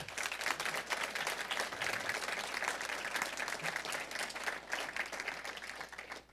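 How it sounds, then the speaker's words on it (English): Sustained applause from an audience at a physician assistant program graduation ceremony, honoring friends and family, with steady, dense clapping that holds at even volume throughout, moderately distant in the hall. "I'm going to ask that you give a round of applause to your friends and family in the audience"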